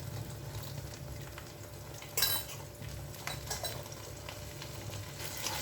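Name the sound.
beating eggs for scrambled eggs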